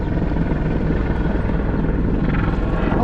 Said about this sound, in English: Oh yes, the helicopter.